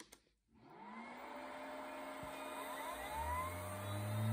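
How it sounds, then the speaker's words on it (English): A lab centrifuge holding spit samples spins up to 4000G, starting with a click and then a rising whir whose whining tones climb steadily in pitch and loudness as it accelerates. "So in the centrifuge now are my two spit samples, and I've set it up for 4000G for 90 seconds"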